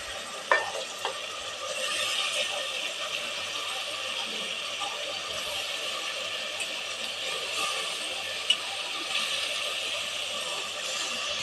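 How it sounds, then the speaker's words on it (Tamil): Mushrooms are stirred into hot oil with tomato in a frying pan for mushroom biryani, giving a steady close sizzle broken by a few sharp utensil taps against the pan. "இப்போ காளான் சேர்த்திக்கலாம்"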